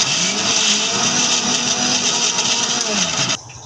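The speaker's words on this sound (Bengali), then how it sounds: "তো ব্লেন্ডার করার সময় সামান্য একটু ফিল্টার পানি দিয়ে নিতে হবে, না হলে ব্লেন্ডারটা ঘুরবে না" Electric blender grinding shrimp with pointed gourd peel and a little filtered water, a loud, steady high-pitched motor whir with slight pitch wobble, cutting off abruptly near the end.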